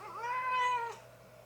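A pet cat lets out a single squeaky, rising-and-falling meow, close and clear, then quiet room tone follows.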